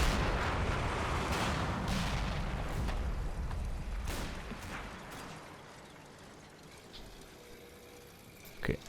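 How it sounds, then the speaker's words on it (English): Four-inch mortars fire in a Normandy battle in Combat Mission: Battle for Normandy, a cluster of heavy booms and rumbling blasts in the first few seconds that fade into a quieter low rumble, with one more thump at the very end. "that could be our own 4-inch mortars just firing wildly off target"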